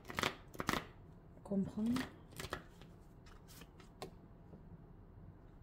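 Tarot cards are shuffled and a card is drawn from the deck, giving a few crisp, close snaps and sliding card sounds while a person speaks quietly.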